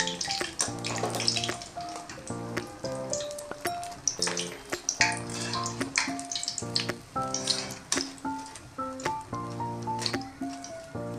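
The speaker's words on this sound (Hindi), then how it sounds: "अब इस पानी में हमने अपने पकोड़े डालने हैं।" Fried pakoras for dahi bhalle drop into a bowl of water one after another, making wet squishes, splashes and drips over steady background music.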